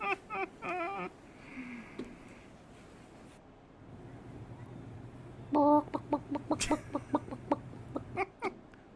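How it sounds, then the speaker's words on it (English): Chickens cluck in quick repeated bursts, a few at the start and then a busier run near the end, with wind rumbling through the quiet stretch in between. "Chickens."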